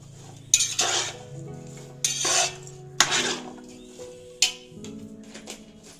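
Turmeric stirred into a pan for a vegetarian restaurant-style paneer stick dish: a spatula scrapes the pan in several separate strokes, close and moderately loud over a low steady hum, with no talking.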